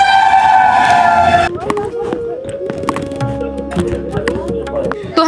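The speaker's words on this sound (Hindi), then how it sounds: "ट्रेन ठीक अपने टाइम से भी पहले आ चुकी है" A passenger train pulls into an Indian railway station on the Ludhiana to Rishikesh route. A loud horn blast comes first, then the heavy rumble of rolling wagons, with squealing tones and clanks. Voices talk over the platform noise.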